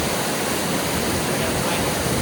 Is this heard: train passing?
no